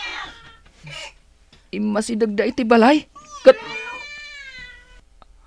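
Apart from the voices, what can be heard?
black cats meowing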